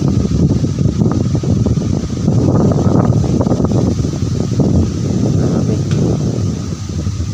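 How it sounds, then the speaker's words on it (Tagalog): Strong typhoon wind gusts roar and buffet close to the microphone on a farm, a constant rough rush with rustling leaves mixed in. "ang lakas ng hangin."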